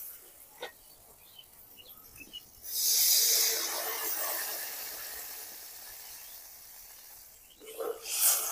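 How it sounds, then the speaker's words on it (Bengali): Water poured into fried spice paste for a Bengali fish curry, hitting the hot pan with a sudden loud hiss that settles into a steady, softer sizzle, with a short burst of sizzling near the end. "এবার ঝোলের জন্য জল দিয়ে দেবো।"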